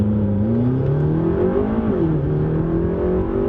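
McLaren 720S accelerating flat out down an open runway, a loud continuous engine roar with rising harmonics and a brief dip mid-pull as it shifts, no voices.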